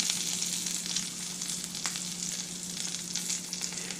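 A basted egg fries in a pan with a steady, close sizzle and fine crackling that hold evenly throughout, with no voices over it.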